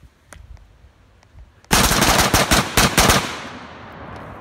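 A suppressed rifle with a Franklin Armory BFS3 binary trigger fires a quick, loud, close string of shots in rapid pairs, after a few faint clicks and a quiet lead-in.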